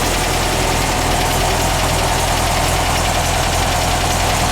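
A newly installed engine in a VW double cab pickup idles while warming up, a loud, steady close rumble with a fast even pulsing throb and no voices.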